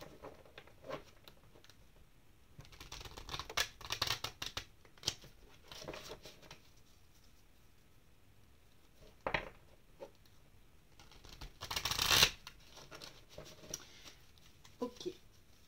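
Tarot cards being shuffled by hand: soft, irregular papery riffles and patters in scattered bursts, fairly quiet, with a louder flurry near the end and no talking.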